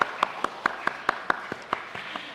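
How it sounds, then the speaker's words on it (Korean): Clapping rings out during a Sunday worship service at a church in Ulsan, a sparse string of sharp, evenly spaced claps, about ten in quick succession, fairly close and standing alone without talk. "서로를 위해서 박수 한번 쳐주세요"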